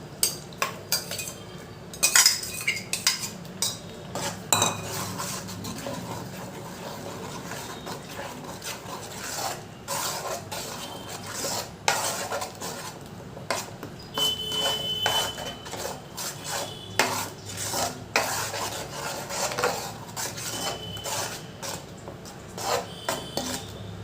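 A spoon stirs spice paste into a spicy fish curry with tomatoes in a pan, giving steady scraping and clinking of metal against the pan, close and continuous for the whole stretch.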